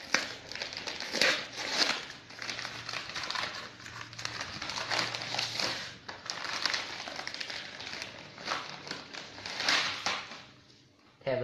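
Plastic wrapping around a tripod box, a 3110A, crinkles and tears continuously at close range in dense crackling bursts, with brief low voices in the background.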